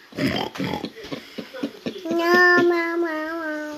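A small child oinks like a pig in a playful vocal imitation, a short run of nasal tonal grunts following an adult's spoken prompts at the start.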